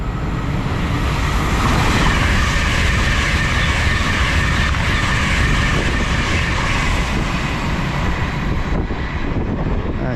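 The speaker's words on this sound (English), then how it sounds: "passing through now is an LNER service, well, ECS move from York to Bounds Green" An LNER train, an empty stock move, runs through Stevenage station with a loud, steady roar and rumble that stays close and constant throughout, fading slightly at the end with no talk.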